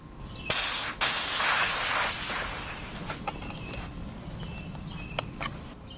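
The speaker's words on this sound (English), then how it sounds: "Then you're going to open the bleed valve and disconnect the fitting." A bleed valve opens on the fill fitting of a Gamo Arrow .22 PCP air rifle, releasing a sudden loud burst of hissing air that fades off over a few seconds, followed by faint clicks.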